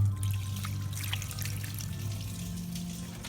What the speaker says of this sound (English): Once you've let your paste set, you want to rinse it off really well.